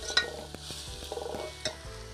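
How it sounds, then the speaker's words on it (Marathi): Half a spoon of turmeric powder sautéed in hot oil in a pan while being stirred, a brief sizzle under scraping strokes of a spoon with a few light knocks against the pan. "आता आपल्याला तेलामध्ये व्यवस्थित थोडंसं परतवून घ्यायचं आहे."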